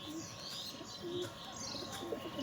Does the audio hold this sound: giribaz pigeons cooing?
yes